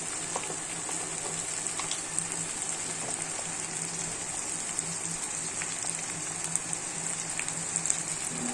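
Chili powder hitting a hot frying pan in a Bangladeshi home kitchen, giving a steady dense sizzle that hisses continuously like rain, close and fairly loud, with no talking.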